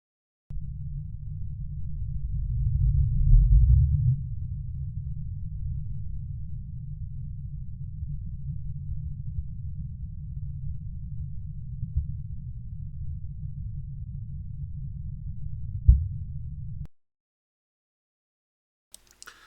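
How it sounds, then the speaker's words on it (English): The Bloop underwater recording sped up four times plays as a continuous low rumble that swells early, then holds steady with a soft thump near the end before cutting to silence. "The early part is now starting to sound more like an actual rumbling noise."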